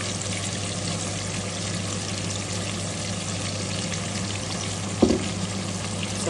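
Chopped onion sizzling in a hot pan for Azerbaijani vegetable dolma pilaf, a steady close frying hiss with a short stir or clatter near the end.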